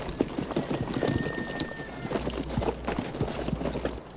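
Horses walking on hard ground, a dense run of overlapping hoof clip-clops at a steady unhurried pace, with faint voices in the background.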